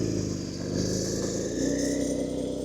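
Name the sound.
Porsche engine idling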